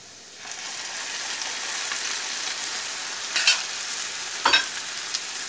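Red salsa with cumin and garlic hits a hot pan of potatoes and sizzles in a continuous hiss, with a couple of louder stirring scrapes toward the end.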